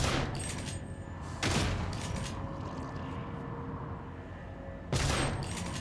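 Gunfire from a weapon fired at a fan in zero gravity in Prey (2017): loud broadband bursts at the start, around one and a half seconds and near five seconds, over a steady humming background.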